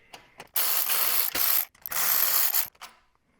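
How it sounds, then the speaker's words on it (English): Ratchet wrench loosening bolts on a snowblower, three bursts of rapid clicking ratchet strokes close up, separated by short pauses, with no talking. "I'm going to loosen up these two bolts and these two bolts."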